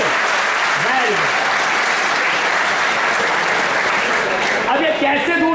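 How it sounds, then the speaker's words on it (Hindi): Loud, continuous applause fills a college alumni gathering, with many hands clapping hard and close throughout while a voice briefly speaks over it. "तो ताली बजा दीजिए, हल्की हो गई ताली, हाँ जोर के"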